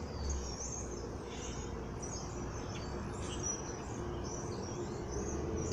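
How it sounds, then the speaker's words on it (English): Small birds chirp and twitter faintly in a spring outdoor setting, with high, scattered calls repeating over a soft, steady background hiss. They sound distant and quiet, and no one speaks. "The birds are singing because it's spring, or almost spring."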